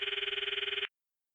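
A phone ringing in a rapid, even trill of buzzing pulses as a call goes out to Mayuri, heard close and alone, then cut off abruptly after less than a second.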